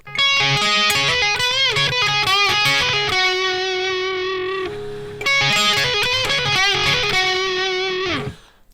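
A heavily distorted electric guitar plays a slow riff of sustained, bending notes, loud and alone, with a brief pause midway before the phrase repeats.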